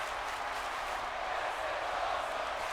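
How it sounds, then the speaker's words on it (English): Wrestling arena crowd in WWE 2K18 roaring and cheering, a dense steady wash of distant noise with faint clapping and no breaks. "The crowd is eating it up."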